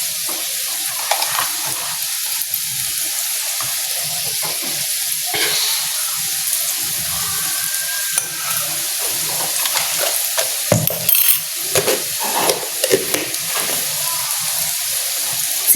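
A large ladleful of margarine melts in a pan for béchamel, sizzling steadily with faint crackles and occasional stirring scrapes and clinks, close up over a constant hiss.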